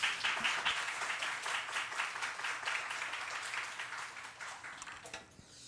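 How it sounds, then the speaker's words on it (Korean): A church congregation applauds warmly as a missionary comes forward, with a steady wash of many hands clapping that fades slightly toward the end. "하나님 앞에 박수로 뜨겁게 영광 돌리겠습니다"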